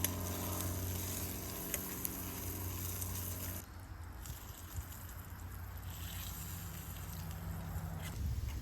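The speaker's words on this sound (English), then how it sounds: "these are cooking pretty quickly in this this little gas stove" Chanterelle mushrooms fry in butter on a small gas stove, giving a continuous soft sizzle and crackle beneath a faint hum, with no talking.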